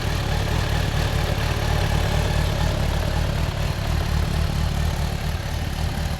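A carburetted Suzuki Bandit 1200S motorcycle engine idles steadily with an even, low rumble and mechanical chatter, unchanging throughout and heard up close.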